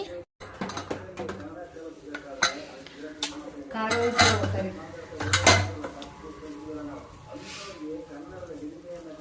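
A pressure cooker of country-style chicken sambar being opened after its whistles: metallic clinks and clatter of the lid and utensils come in bursts while a person talks alongside.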